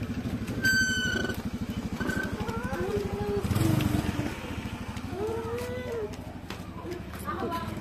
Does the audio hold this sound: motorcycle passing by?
yes